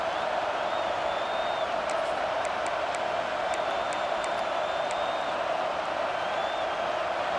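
Stadium crowd in College Football 26 cheering a Florida Gators third down, a steady loud roar of massed voices with occasional whistles, continuous and enveloping throughout.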